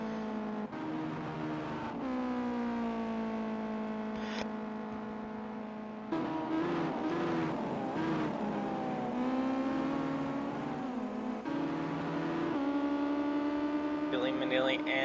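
Ginetta GT5 race cars in Project Cars 2 at the Nurburgring, engines droning and rising steadily under throttle out of a corner, a continuous harmonic whine with shifts in pitch, heard beneath ongoing commentary.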